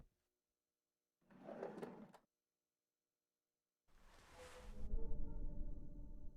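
A door being opened in the horror game Remothered: Tormented Fathers, heard as two separate bursts: a short scrape and rattle first, then after a pause a longer, louder creaking push that fades with a low resonant tail.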